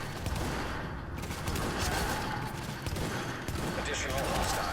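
Sniper rifle fire in The Division video game, sharp reports amid a dense, continuous wash of game combat noise and mechanical clatter, with no talking.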